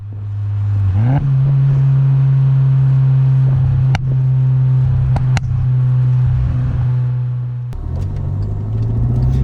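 A built 510 whp Volkswagen Golf R idles with a steady low exhaust drone while warming up, broken by a few sharp, loud exhaust pops and cracks spaced several seconds apart.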